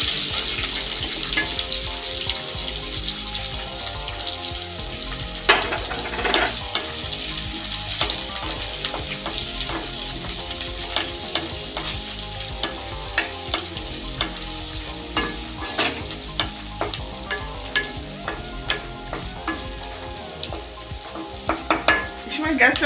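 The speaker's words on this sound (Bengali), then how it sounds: "পেঁয়াজটা ভাজা হয়ে গেছে লাল লাল করে" Onions frying and being stirred in a pan over low to medium gas heat for a fish jhal, a steady close sizzle broken by frequent scraping strokes of a spatula throughout.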